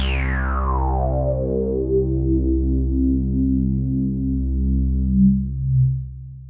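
Oberheim Matrix 1000 analog synthesizer playing a Sawyer patch: a thick, buzzy bass-heavy drone opening with a bright filter sweep that closes down, then pulsing slowly, sustained alone for several seconds.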